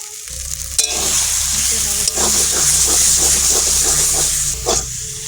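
Taro leaves cook with grated coconut in a hot pan, giving a loud, continuous close sizzle with rhythmic stirring scrapes of a spatula against the metal and a brief clatter near the start.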